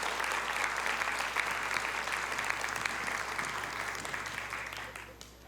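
A church congregation breaks into steady, dense applause that fills the room, holding even and full before tapering off near the end.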